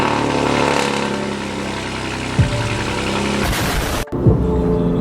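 BMW G80 M3 engine on a cold start, a steady loud idle hum that surges briefly in pitch and level, then a short cut and another rise, with no talking.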